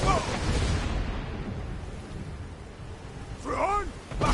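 A thunderstorm summoned in the video game Skyrim: a deep rolling thunder rumble with rain-like hiss sustains throughout, while a voice speaks briefly at the start and near the end.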